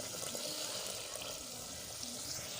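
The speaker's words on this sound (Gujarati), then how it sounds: "આમાં આપણે થોડું ગ્રેવી માટે થોડુંક પાણી ઉમેરીશું" Water poured into a spice masala in a pan while making cashew curry gravy, a steady splashing pour with a soft sizzle beneath, continuous and close, with no voices.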